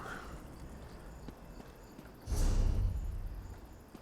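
Horse hooves clip-clopping in the video game Elder Scrolls Online, a quick run of hoofbeats that starts faint and grows louder and heavier partway through, with a low rumble underneath.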